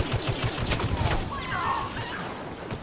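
Blaster gunfire in a Star Wars Battlefront match near a star destroyer, with a quick burst of sharp shots at the start and rumbling battle sounds afterward, while a voice talks over it.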